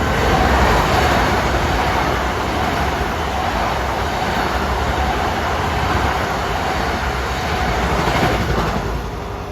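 A Long Island Rail Road train rushes through Westbury station on a triple-track line, a loud, continuous roar of wheels and cars passing close by for the whole stretch.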